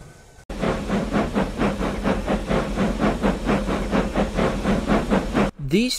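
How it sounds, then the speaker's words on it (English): Freight locomotive 9317 pulls intermodal cars over badly flood-damaged track under heavy throttle, a loud, steady engine roar with rhythmic pulsing chuffs throughout, ending abruptly. "number 9317 is having to use more throttle than needed just to get over the tracks without getting stuck"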